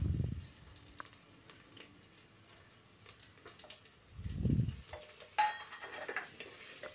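Mixed spices fry in a pan, a soft sizzle broken by occasional clinks of a spoon against metal and a couple of low rumbling thumps, fairly quiet and close.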